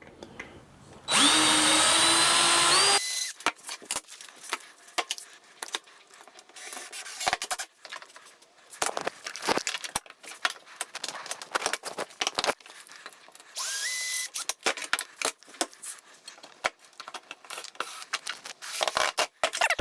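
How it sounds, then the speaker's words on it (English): A power drill drives screws into an Onefinity QCW CNC frame, two short loud whirring bursts with rising pitch as each screw tightens, separated by clicks and handling noises. "all I have to do is just go through and put all the rest of the screws in"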